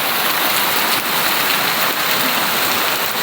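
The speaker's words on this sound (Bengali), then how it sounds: "বাইরে দেখো বৃষ্টি হচ্ছে।" Rain falling outside, a loud, continuous hiss of drops pattering on surfaces, steady throughout with a few brief sharper spatters.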